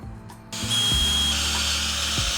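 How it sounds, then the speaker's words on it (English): A power drill bores holes into white oak. A click and spin-up lead into a steady, loud whine that holds with little change while the bit cuts into the wood. "Time to drill some holes"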